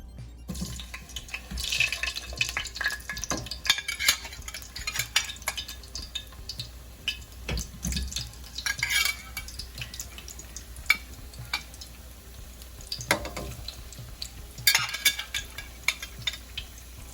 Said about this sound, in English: I already have the oil in the pan, so I'm gonna let it hot a little bit. So I'm gonna put the plantain.